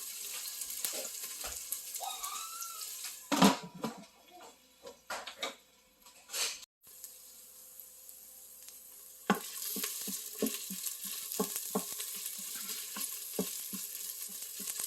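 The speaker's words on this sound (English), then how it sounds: "So the onion has been cooking for about a minute now." Onions soften in hot vegetable oil inside an Instant Pot, a soft steady sizzle broken by a few louder clanks and stirring knocks, then quiet sputtering crackles carry on alone.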